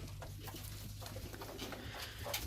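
Ornamental pigeons feeding in winter, with faint soft cooing and light pecking and patter close by, quiet and continuous.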